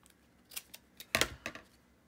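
Scissors snip through paper from a junk mail envelope in a handful of short, crisp cuts close by, one louder snap in the middle and no talking.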